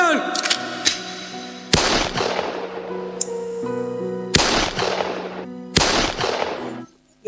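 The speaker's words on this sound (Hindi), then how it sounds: "Guard of honour, position, ready, M, fire." Rifles of a guard of honour fire ceremonial volleys at an annual function, several loud sharp cracks spaced a second or two apart, each followed by a ringing reverberant tail, with music playing underneath.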